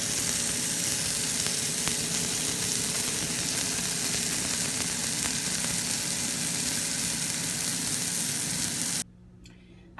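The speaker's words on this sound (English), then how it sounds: "in a skillet, and then we're going to wrap this burger up. I'm going to cook these little guys for about 4 minutes each side" Turkey burgers fry in a skillet with a steady, loud sizzle that runs unbroken for about nine seconds before dropping off sharply to near silence.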